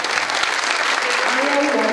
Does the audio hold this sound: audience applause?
yes